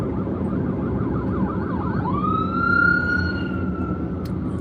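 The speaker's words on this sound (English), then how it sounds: "Ambulance." An ambulance siren wails past on the road, heard from inside a vehicle: a rapidly warbling yelp shifts into a long, steady rising wail that holds over constant road rumble before fading off.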